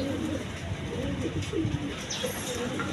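A pair of pigeons coo at a pigeon farm, soft repeated low throaty calls close by over a steady background hum, with no speech.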